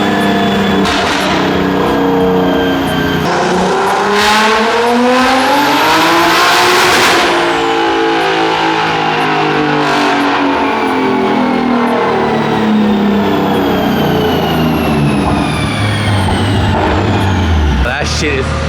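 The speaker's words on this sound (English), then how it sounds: "He's gonna do a little dyno pull real quick." A loud turbocharged BMW M3 engine revs hard on a dyno and climbs through the gears, a sustained roaring whine rising and falling in pitch, close and continuous, with voices underneath.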